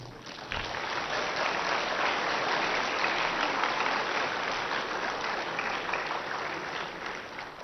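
A large audience at a yoga festival at Patanjali Yogpeeth in Haridwar claps steadily, a dense, even wash of applause that swells slightly and then holds.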